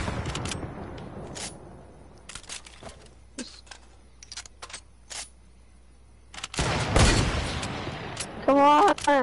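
Gunfire in Fortnite, scattered sharp shots cracking intermittently with a denser burst of firing near the end, moderately loud, while a player talks over the action at times.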